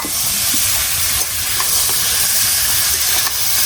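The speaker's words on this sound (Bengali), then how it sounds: "এখন পেঁপেগুলো দিয়ে দিব।" Papaya pieces fry in hot oil with fried onion and dried chilli, a loud, close hissing sizzle with a few scrapes of a spoon against the pan.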